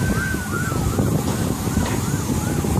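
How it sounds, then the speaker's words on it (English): Wailing ambulance sirens, joined by a fire truck, sweep up and down over a steady roar of wind and traffic, sounding fairly close and continuous throughout. "there are a lot of ambulances"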